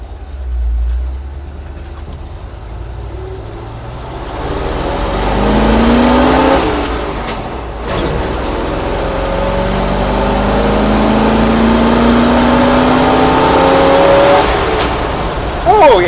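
A 1964 Ford F100 with a 302 small-block V8 and a Pertronix cast distributor, heard right after a distributor adjustment, revs repeatedly from a rumbling idle into rising, sustained climbs, loud and close.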